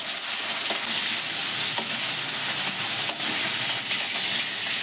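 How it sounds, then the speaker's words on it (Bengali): Prawns for a malai curry frying in hot oil in a pan: a dense, continuous close-up sizzle and hiss with a few sharp pops and spatters breaking through. "এখানে আমি চিংড়ি মাছটাকে ভেজে নিই।"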